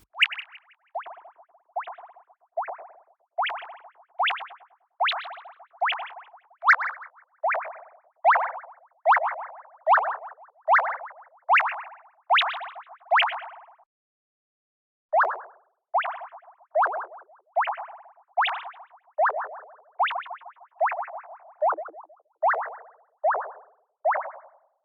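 Synthesized water droplets made in the Vital synth, a long run of short pitched plinks with quick downward sweeps, evenly repeated about once a second with a brief gap midway, clear and alone.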